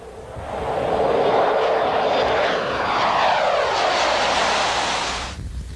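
Small propeller airplane flying over Kotzebue, Alaska, its engine drone swelling as it passes close by, loud and steady for several seconds before fading away.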